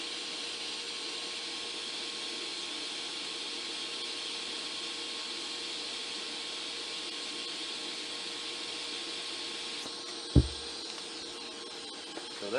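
Steady hiss of a TIG welding arc from a SanRex SanStick 140S welder, running smooth and unbroken for several seconds before a brief low thump as it stops.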